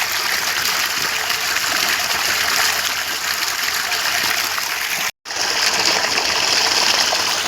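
Water pours from a motor pump outlet in a village field with a constant close rush and splatter, broken once by a brief silent gap before the flow resumes.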